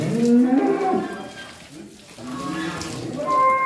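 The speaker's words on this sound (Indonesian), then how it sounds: "Kita akan keluarkan sapi monster sang legendaris Jakaswara dari lereng Gunung Telomoyo" Jakaswara, a legendary monster cow of over a ton from the slopes of Mount Telomoyo, lets out loud, close moos in two long drawn bellows separated by a brief pause.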